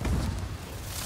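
A grenade goes off in the Black Ops 6 multiplayer beta, a short heavy boom that opens loud and low, then settles into a dull rumbling tail within about a second, with no voices.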